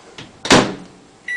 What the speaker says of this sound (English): you can put it in your microwave